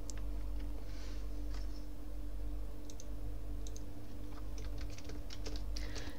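Light keystrokes on a computer keyboard while writing Python code, soft scattered clicks in short runs over a low steady hum, fairly quiet and close.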